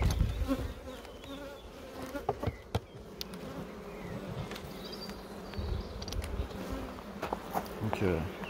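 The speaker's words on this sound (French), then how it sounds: "Vous écrasez toujours des abeilles." Dense, steady buzzing of many honeybees around a hive close by, with occasional rustling and handling noises throughout.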